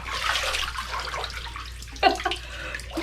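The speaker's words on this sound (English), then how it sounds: "I'm just going to repeatedly dunk my face in the water forwards and backwards to test the wig" A face plunged repeatedly into water while wearing a mermaid wig, giving sloshing, splashing water noise throughout with a sharper splash burst midway, close and fairly loud.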